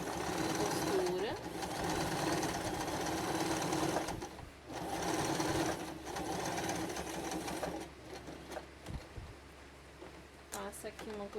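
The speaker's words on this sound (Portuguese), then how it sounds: "E aqui tu vai passar uma costura de segurança. Sempre retrocede ali a costura." A sewing machine runs a backstitched reinforcing seam through thick rubberized fabric on a hygiene kit case, whirring steadily and loudly with brief pauses and restarts while a person talks over it.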